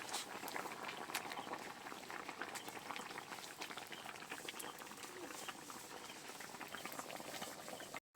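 Sundarbans pigeon fish curry with raw tomato and potato boils steadily in a pan, a dense, close bubbling and popping that runs unbroken to an abrupt stop at the end.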